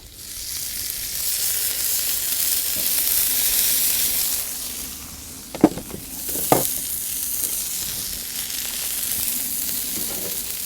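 Aubergines sizzle in oil on a grill, giving a continuous close hiss that swells and eases, with a couple of sharp clacks and scrapes midway as they are moved about.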